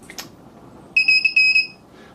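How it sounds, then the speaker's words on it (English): A harsh electronic buzzer wired to a proximity sensor on a small development board sounds in several shrill, pulsing beeps over roughly a second, loud and close, after a faint click. "rather nasty sounding buzzer connected over here, and again through the code, just turning on when this proximity sensor triggers"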